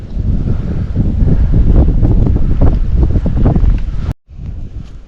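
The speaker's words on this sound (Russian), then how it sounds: "Тут ветер, да?" Strong blizzard wind on open ice during a winter fishing trip buffets the microphone in a loud, continuous roar with gusting surges, then cuts off abruptly before resuming more faintly.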